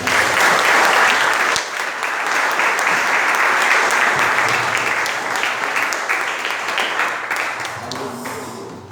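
Church congregation applauding in praise during a worship service, sustained dense clapping that fills the room and fades slightly toward the end, with no speech over it.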